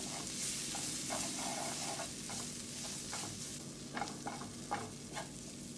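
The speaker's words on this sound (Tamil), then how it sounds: "இதெல்லாமே ஆட் பண்ணி நல்லா மிக்ஸ் பண்ணிக்கோங்க" Onions stirred in a pan with chili powder, garam masala, oregano, pepper and salt: a steady close sizzle broken by rhythmic scraping strokes of a spatula, a few sharper clicks near the end, and no voices.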